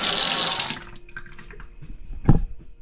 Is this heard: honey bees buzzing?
no